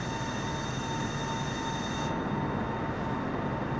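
Steady, loud cabin roar inside a four-engine airplane descending to land at St. Maarten, a continuous broadband engine and airflow drone with a faint tonal whine and no talking.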